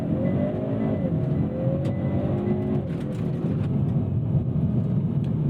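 A 2022 Hyundai Veloster N with a dual-clutch transmission pulls away from a launch-control start: a steady, loud engine drone with rising tones that climb through the gears, continuous and close, with no talking.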